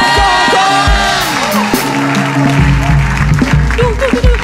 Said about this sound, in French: Quelqu'un peut acclamer pour elle. Oh, je peux acclamer plus fort pour le Seigneur.